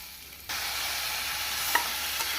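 Food sizzles in a hot pan as chopped tomato is dropped into sautéing onion, with a brief clink of a utensil against the pan partway through.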